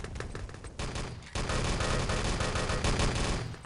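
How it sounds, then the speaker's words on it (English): Rapid bursts of automatic gunfire in the multiplayer shooter Wolfenstein: Enemy Territory during a 6v6 LAN tournament match, loud and dense, with overlapping volleys and a brief lull before firing resumes heavier. "Nice shooting from Kimmy."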